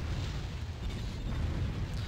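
Buildings blown apart in Warzone 2100, a sustained rumbling roar of explosions and crumbling debris, loud and continuous throughout with no talking.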